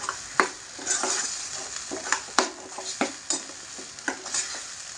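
Tempering stirred in a hot pan for tamarind chutney, with repeated sharp scrapes and taps over a soft, steady sizzle of oil.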